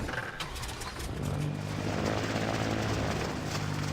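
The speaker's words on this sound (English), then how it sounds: "See, the prop is powerful enough to turn this helicopter like that." A propeller-driven helicopter built in the video game Trailmakers gives a steady whirring engine drone that swells and holds loudly for several seconds, with no talking.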